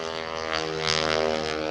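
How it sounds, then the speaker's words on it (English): A Bird Dog propeller airplane's engine runs loud and steady nearby, a continuous droning roar with strong harmonic hum and breathy wash, alone without speech. "Don't you love all this airplane noise?"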